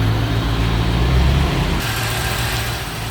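A 1988 Chevrolet Corvette engine runs with a steady low rumble nearby with the hood open, its tone shifting partway through before settling into a continuous idle.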